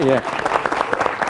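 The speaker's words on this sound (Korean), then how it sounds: "박수 한번 다시 한번 주시고요" Audience applause at a student team presentation event, heard as brief, moderately loud clapping rising just after a short spoken word at the start.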